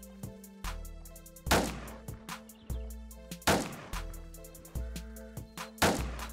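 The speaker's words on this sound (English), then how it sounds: "I'm missing all my shots" Sniper rifle shots in the Roblox game Island Royale, four loud booming reports spaced a couple of seconds apart over a busy game backdrop of steady tones and small clicks.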